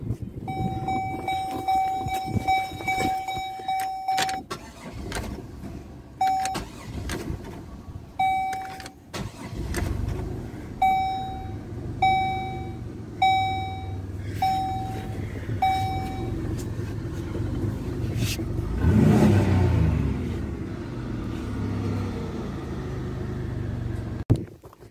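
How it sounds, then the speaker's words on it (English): A Buick LeSabre Custom sounds a repeating warning chime, then its engine turns over and settles into a low, steady running rumble, with a brief surge near the end. "Buick LeSabre Custom."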